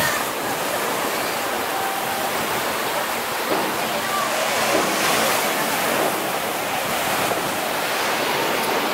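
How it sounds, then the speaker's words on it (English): Ocean surf rolls onto South Beach as a steady, full wash of breaking waves with some wind across the microphone, continuous and fairly loud throughout. "It's a beautiful beach."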